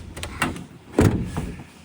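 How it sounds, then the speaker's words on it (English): A van door is shut, giving a couple of soft sliding clunks followed by one firmer thud nearby, fairly faint overall with no speech. "Shut the door."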